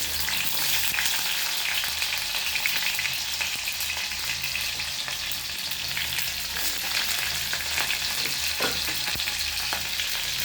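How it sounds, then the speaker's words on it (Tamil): Onion and garlic sautéing in hot oil with mustard seeds for mutton curry, a steady close sizzle with occasional spoon scrapes and small pops, and no voices. "இப்போ வெங்காயமும் உள்ளியும் சேர்த்து வதக்க போகிறோம்"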